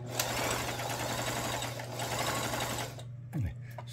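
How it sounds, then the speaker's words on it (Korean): Sewing machine running through a stitch test after repair, a loud, steady mechanical whir with a fast rhythmic chatter for about three seconds before it stops, followed by a short clunk. "모든 바느질이 정상적으로 작동되고 있습니다. 다시 박아볼게요."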